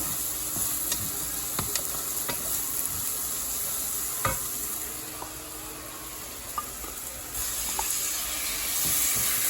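Carrots being mixed into a banana coconut sauce that sizzles in the pan, a steady hiss of frying broken by sharp scattered clicks and scrapes of the spoon.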